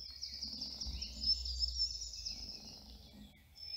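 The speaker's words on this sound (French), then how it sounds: "la mélodie des oiseaux" Birds singing outdoors, a continuous high thin warbling and twittering that carries throughout, fairly clear above a soft low rumble of wind or distant ambience.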